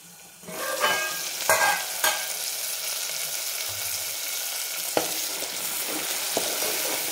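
Masala frying in oil in a pan for a spicy chicken rassa, a steady crackling sizzle with occasional stirring scrapes and knocks, no voices.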